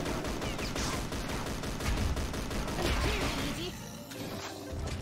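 Rapid automatic gunfire from enemy bosses in the CrossFire shooter game, nightmare-difficulty AI mode: heavy, continuous shots with crashing impacts, easing off near the end, with a voice partly heard under the shooting.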